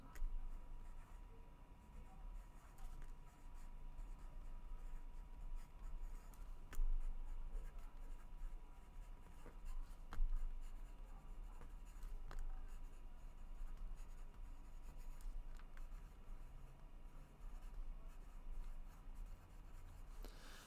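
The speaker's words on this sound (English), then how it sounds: "I'm going to write that down." Pen or pencil scratching steadily across paper while a note is written during a lesson on search algorithms, a continuous close scribbling texture with small ticks and a few louder strokes, no talking.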